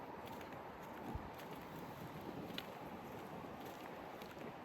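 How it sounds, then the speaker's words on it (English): Steady wind buffeting a phone microphone outdoors on a breezy day while walking, a faint continuous rumbling hiss with a couple of brief thumps. "It's a good day today, but it's a bit windy."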